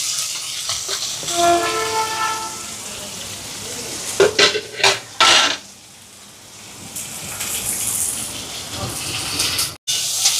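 Chopped big onions with fennel seeds, mustard, curry leaves and green chillies sautéing in a pan for a Jaffna-style lunch, steady sizzle with a few loud spoon scrapes and stirs midway, fairly close and with no talk.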